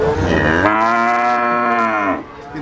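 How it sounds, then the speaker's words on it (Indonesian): A single long, loud moo from a breeding calf at a cattle market in Yogyakarta, drawn out for about two seconds and falling off at the end, with no talking. "Di depan saya ada sapi bibitan"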